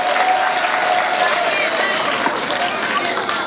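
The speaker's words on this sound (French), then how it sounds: "Me sentant pardonné par ces applaudissements" Audience applause at a formal address, a diffuse, even patter of clapping heard from a distance without a break.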